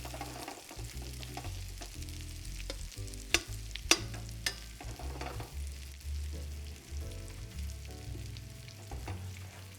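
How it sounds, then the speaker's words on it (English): Garlic frying in butter with hen of the woods mushrooms in a pan, a steady close sizzle with a few sharp clinks of a utensil against the pan partway through. "you see the garlic is nicely cooking"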